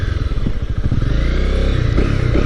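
Honda CB250R motorcycle engine while riding, a loud, close single-cylinder drone with a steady throbbing pulse and a slight rise and dip in revs, with no speech.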